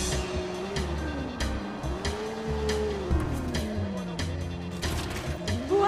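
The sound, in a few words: car driving fast in the video game Watch Dogs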